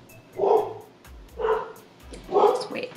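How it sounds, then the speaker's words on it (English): Several household dogs bark in three loud bursts about a second apart, fairly close by indoors. "so the dogs are going off right now"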